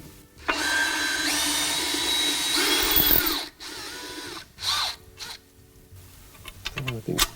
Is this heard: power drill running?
yes